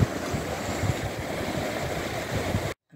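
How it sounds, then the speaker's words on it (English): Continuous wash of surf rolls and hisses steadily for a few seconds, a broad even rush of waves, then cuts to near silence at the end. "I'm waking up this morning listening to those waves crashing."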